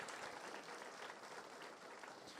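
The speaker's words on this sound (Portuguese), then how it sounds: "Você pode aplaudir a Jesus por tantas promessas que nós lemos aqui hoje?" A church congregation applauds during a service, with dense, steady clapping from many hands filling the whole moment.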